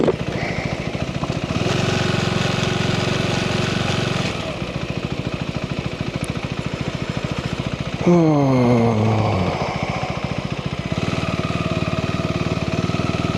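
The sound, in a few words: motorcycle engine idling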